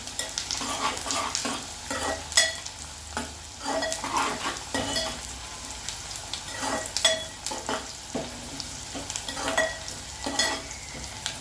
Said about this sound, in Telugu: ఉల్లిగడ్డలు మంచిగా ఎర్రగా వేగేదాకా మంచిగా ఫ్రై చేసుకోవాలి